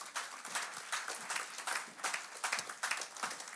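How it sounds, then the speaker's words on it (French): Church congregation at an online French-language worship service clapping and cheering for Jesus, a dense, sustained burst of applause with rhythmic surges, moderately close and filling the whole moment without talk. "Acclamons très fort le Seigneur Jésus."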